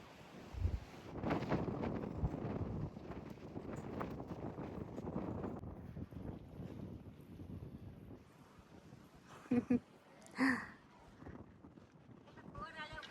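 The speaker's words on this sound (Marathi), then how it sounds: "ही आहे गिरनारची हवा." Strong gusting wind partway up Girnar mountain, buffeting the microphone in uneven rushes that swell and fade, with people talking at times over the noise.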